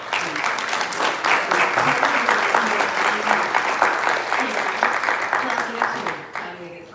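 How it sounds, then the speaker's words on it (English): A crowd at an Asian American Heritage event claps for an honoured leader, a full, sustained burst of applause that holds steady for several seconds before tapering off sharply at the end. "I think Prakriti deserves a round of applause."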